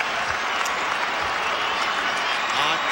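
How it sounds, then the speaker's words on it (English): A large arena crowd at Staples Center gives a standing ovation at a Clippers-Lakers basketball game on championship ring night, clapping and cheering merging into a dense continuous roar, with an announcer's voice faintly underneath. "A standing ovation"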